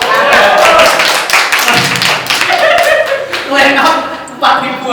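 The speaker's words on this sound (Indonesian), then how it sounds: "Tepuk tangan dulu dong." Audience applause at a book discussion event in a reading garden, a burst of rapid hand claps from a small crowd with voices and laughter mixed in throughout.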